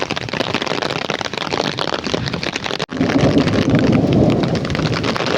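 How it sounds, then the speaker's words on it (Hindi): Dense, steady hiss of heavy, sudden rain pouring down in Himachal, loud and close, with a brief dropout midway before the downpour resumes even stronger. "अचानक से बारिश कैसे लग गई"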